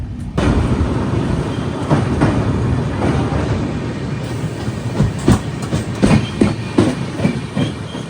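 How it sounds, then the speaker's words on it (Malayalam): Korba Express passenger train running on the Shoranur–Ernakulam stretch in Kerala, heard from on board as a continuous rumble with rhythmic clickety-clack wheel beats that grow more frequent and pronounced toward the end. "നമ്മുടെ കോർബ എക്സ്പ്രസ് അങ്ങനെ കേരളത്തിൻ്റെ ബിസിയസ്റ്റ് റൂട്ടായ ഷൊർണൂർ എറണാകുളം സ്ട്രെച്ചിൽ കയറി കേട്ടോ."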